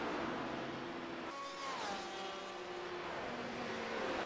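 Race cars in an iRacing multiclass endurance event at Watkins Glen, several engines droning together with a pitch-shifting pass partway through, steady and fairly loud with no talk over it.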